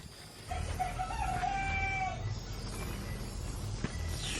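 A rooster crows once in the distance from a backyard, a drawn-out call over steady outdoor background noise.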